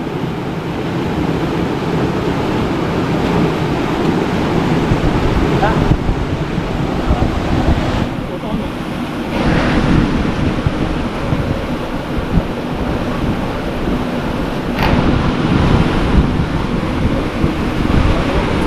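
Strong wind blows across a shore near the water, a constant loud rush with buffeting against the microphone and a low wash of surf beneath it.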